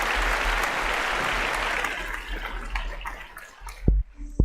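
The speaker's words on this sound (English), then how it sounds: "let me give her a round of applause before we go" A live podcast audience applauds a guest named Toni, a dense burst of clapping that fades after a few seconds and leaves a few sharp knocks and near-quiet at the end.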